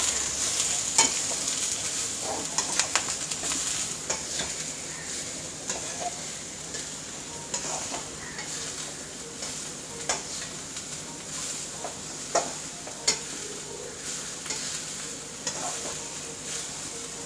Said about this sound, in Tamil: இது லைட்டாக வதக்கி விட்டுட்டு வேணால் சால்ட் ஆட் பண்ணிக்கோங்க.